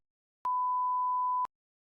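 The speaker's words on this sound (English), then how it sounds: "You may begin after the beep." A single steady electronic beep, clean and mid-pitched, holds for about one second in otherwise total silence.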